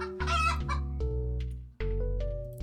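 Chickens cluck repeatedly in the video game Terracards, clear close game sound effects in a rapid string of calls with a short break before another round.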